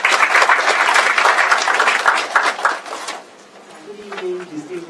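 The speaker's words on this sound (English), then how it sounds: "Please welcome her with a round of applause" An audience at an evening economics forum applauds loudly and densely for about three seconds, then the clapping fades out and a voice begins speaking.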